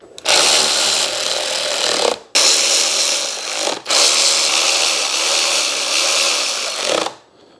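A power tool tightens the steering stem on a Honda XR250R motorcycle in three loud, close whirring bursts separated by short pauses, with no talk.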